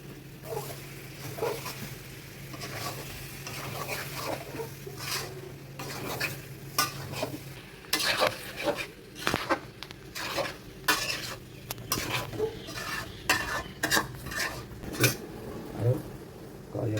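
Meat for biryani goes into a pot and is stirred and fried, with repeated scraping and clattering stirs over a steady sizzle, close and moderately loud, no talking.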